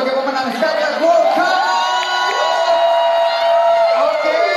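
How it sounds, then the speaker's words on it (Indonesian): A fan crowd at a TWICE meet-and-greet event in Jakarta cheers loudly, with sustained high-pitched screams and whoops rising and falling together in a dense, continuous roar. "kita berikan tepuk tangan sekali lagi untuk Dayon sebagai pemenang Dayon World"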